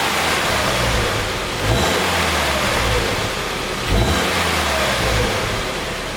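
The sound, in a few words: Subaru Forester engine revving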